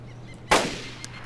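A single sharp gunshot in DayZ cracks out loud and close, followed by a short decaying tail, with a faint click shortly after.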